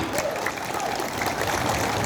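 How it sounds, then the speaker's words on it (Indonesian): An audience at an organization's anniversary gathering gives steady, dense applause, a continuous patter of many hands clapping at moderate loudness. "Tepuk tangan bekal Bang Iwan."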